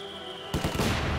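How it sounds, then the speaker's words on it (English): Video game mortar shell striking an infantry squad: a sudden loud explosive burst after a quiet tone, followed by a few rapid crackling blasts and rumbling debris. "nice mortar hit there"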